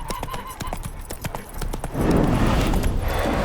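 Spooked horse in The Witcher 3 clip-clopping close by, rapid irregular hoof strikes followed by a louder rush of movement and scuffling.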